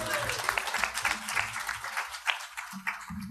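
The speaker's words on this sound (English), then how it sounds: "I think that deserves a round of applause." Steady applause from a group at a fraternity symposium fills the clip, a dense patter of clapping with a voice speaking briefly toward the end.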